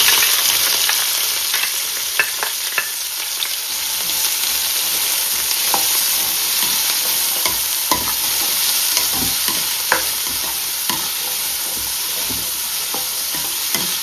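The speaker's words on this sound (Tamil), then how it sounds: "இப்போ சின்ன கட் பண்ணி வச்சிருந்து வெங்காயத்தை சேர்க்கலாம்" Finely chopped onions sizzle steadily in hot oil with cardamom and cloves for a mutton curry, with a continuous frying hiss punctuated by occasional scraping clicks of a spoon stirring the pan.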